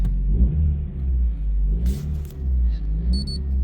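A Ford Focus engine rumbles close by and revs unevenly, its pitch swelling and sagging in weak, hesitant surges rather than climbing cleanly.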